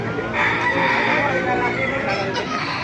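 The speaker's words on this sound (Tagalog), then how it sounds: "Pakita ko sa inyo mga manok dito sa Baliwag." Chickens cluck steadily in a busy, close flock while a rooster crows loudly over them, at a market in Baliuag.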